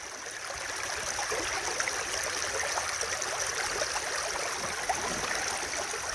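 River water rushing steadily through a gold sluice, a continuous broadband wash of flowing and splashing water at close range, even and unbroken throughout with no talk.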